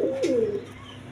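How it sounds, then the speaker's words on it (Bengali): A pair of shirazi pigeons coo once, a short low throaty warble close by, followed by quiet background. "দর্শকবৃন্দ এখানে এক পেয়ার শার্টিং কবুতর আছে"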